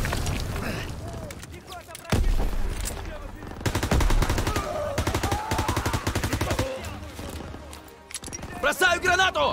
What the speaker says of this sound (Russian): Стрельба! Наши парни должны быть близко!